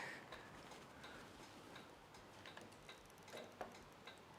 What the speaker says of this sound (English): I can hear ticking of indicators